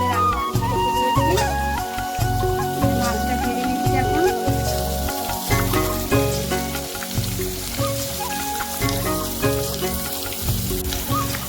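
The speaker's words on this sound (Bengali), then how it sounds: "যেহেতু মাছ ভাজা এক সাইডে হয়ে যায়" Fish fries hard in a wok alongside egg, pointed gourd, eggplant and potato, a loud, steady crackling sizzle that runs throughout with a low rumbling undertone.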